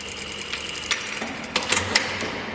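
Sewing machine stitching a back tack on pants, running as a quiet steady whir broken by a few short mechanical clacks and bursts.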